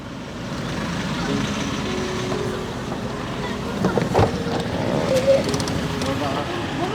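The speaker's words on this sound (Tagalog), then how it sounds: "Wait lang, may sasakyan, may sasakyan," A motor vehicle rumbles past on a road outdoors, a steady broadband drone that swells slightly midway, with voices nearby.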